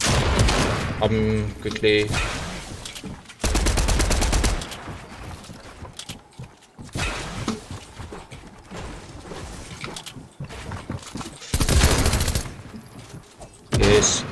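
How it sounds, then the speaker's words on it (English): Submachine gun fire in a shooter video game: repeated rapid bursts, loud and close, broken by short pauses, with a player talking between and over the shots. "This SMG is so overpowered."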